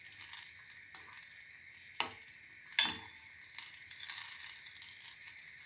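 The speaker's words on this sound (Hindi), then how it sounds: "ये आहिस्ता आहिस्ता मेल्ट हो रहा है। इसके अंदर चम्मच हिलाएंगे आहिस्ता से।" A spoon stirring butter as it slowly melts in a pan for homemade desi ghee, with a soft steady sizzle and two sharp scraping knocks against the pan amid quiet stirring.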